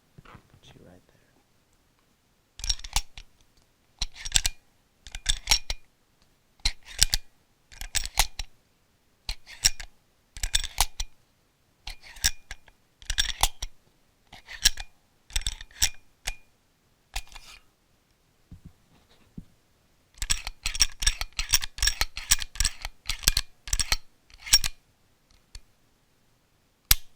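Hudson H9 pistol having its slide worked by hand: crisp metallic clacks and clicks in evenly spaced bursts, close and quiet, with a longer rapid flurry of cycling near the end and no voices.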